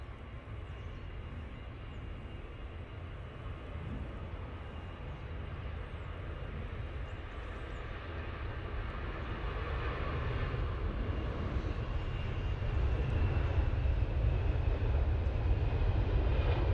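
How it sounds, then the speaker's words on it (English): An EasyJet airliner makes its takeoff roll at Manchester Airport, a distant broad engine roar that builds slowly and steadily to the end with no voices. "EasyJet now on the roll."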